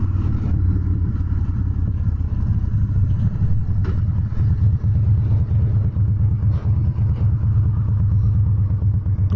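A 2016 Harley-Davidson Dyna Street Bob V-twin sits in neutral on a warm day, its deep, loping exhaust rumble steady and close with slight swells in revs.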